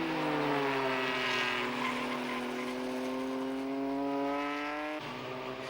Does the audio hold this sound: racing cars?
yes